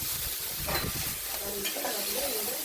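Ridge gourd pieces frying in ghee in a pan, a steady close sizzle with stirring scrapes throughout, Kalaburagi-style cooking.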